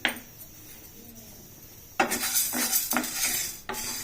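Chana dal and urad dal fried in a pan, with a quiet sizzle and then close, brisk scraping and stirring of a spatula against the metal in several strokes.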